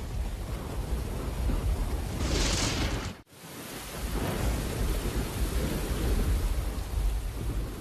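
Heavy storm at sea around a large container ship, with dense rain noise and a deep rumbling roar filling the whole clip, broken by a brief sudden dropout near the middle before the loud wash of rain and wind resumes.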